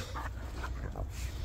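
A dog whimpers in short, soft high-pitched bursts, three or four brief whines close by over a low steady background hum.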